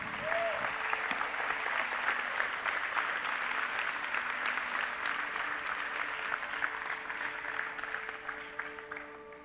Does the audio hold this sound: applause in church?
yes